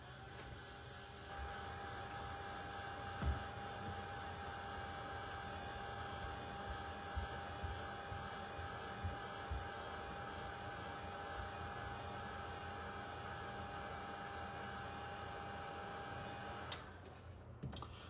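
A hair dryer blows steadily on a fresh coat of Amazing Casting Resin, a constant broadband whoosh that runs without a break for most of the clip and cuts off near the end.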